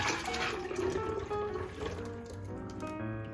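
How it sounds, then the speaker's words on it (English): Cream for spruce tip ice cream pours steadily into an ice cream maker up close, a continuous gurgling flow that shifts in pitch as it fills. "now let's pour that in our ice cream maker"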